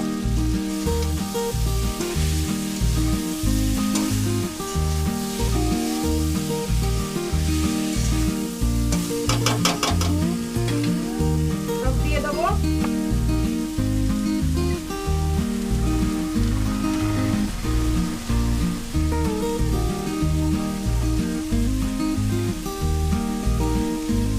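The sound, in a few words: cabbage being stir-fried with fish head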